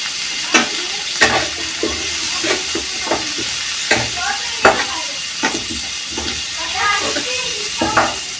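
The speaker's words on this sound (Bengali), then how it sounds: "আমি আলুটা কষিয়ে নেব।" Potatoes with turmeric and salt being sautéed in a pan, crisp sizzling broken by repeated spatula scrapes and knocks at irregular intervals, close and fairly loud.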